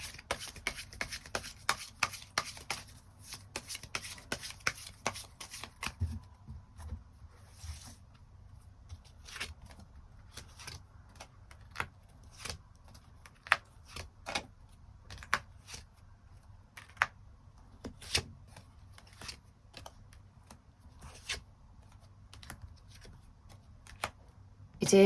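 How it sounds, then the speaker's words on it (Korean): Tarot cards shuffled and drawn by hand, a dense riffling burst at first, then scattered crisp slaps and slides as single cards are pulled and laid down, close and clear, no voices. "추가 카드 뽑아보도록 하겠습니다"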